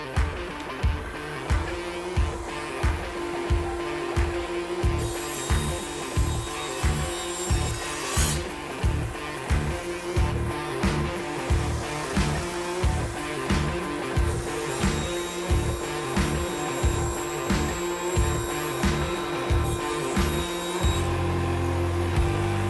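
A saw rips through UV-coated plywood fed with a push block, either a Milescraft Grabber or a Microjig Gr-Ripper. A steady motor hum runs under a regular, rhythmic pulsing of the blade cutting, loud and close throughout.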